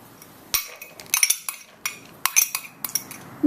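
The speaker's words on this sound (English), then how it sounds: "I'm just going to mix it really well" Shrimp filling mixed in a bowl with a utensil, a series of sharp clinks and scrapes against the bowl coming in irregular bursts, close and fairly loud, with no talking.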